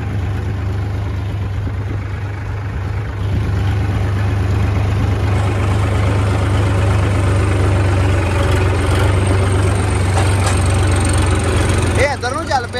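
Tractor engines idle steadily nearby while a combine is towed in a farm field, including a Massey 9500, with a constant low rumble throughout and people talking over it.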